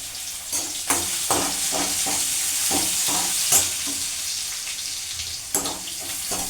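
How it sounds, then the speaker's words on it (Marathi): Cumin and garlic paste fries in a hot pan with a loud, continuous sizzle, broken by repeated scraping strokes of a spoon stirring it. "आता हे जिरं लसणाची पेस्ट टाकून घेऊया"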